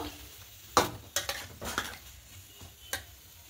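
A spatula stirs maida curry with ghee in a pan, giving a handful of distinct scraping and tapping strokes at irregular intervals over a soft background hiss, close and moderately quiet.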